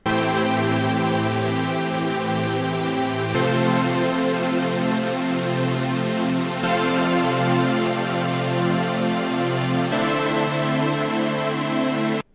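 Thick, layered synthesizer chords ring out continuously, shifting to a new chord every few seconds in a dense, full wall of sound.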